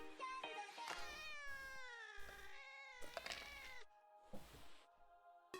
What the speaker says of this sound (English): The cat noises is what gets me.